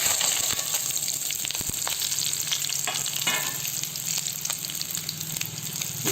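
Coriander seeds, cumin, fenugreek and dried red chillies fry in a pan on low heat, giving a steady close sizzle with scattered crackles and occasional stirring scrapes throughout.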